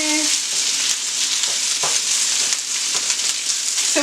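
Thai basil taco filling sizzling and browning in a hot pan, a loud, dense, steady frying hiss close up with occasional faint scrapes of a spatula.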